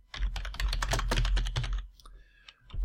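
Rapid keystrokes on a computer keyboard, clattering in a dense steady run for about two seconds, then pausing before a couple of isolated taps near the end.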